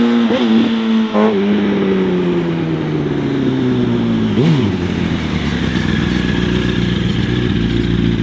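A 2004 Yamaha R1 sport motorcycle accelerates along a short stretch of road, its loud, close engine rising and dropping in pitch through revs and gear changes, with no talking.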